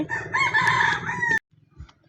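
Chickens on a broiler or layer poultry farm give a single loud, drawn-out call lasting over a second, close by, then stop abruptly, leaving near silence with faint scattered clucks.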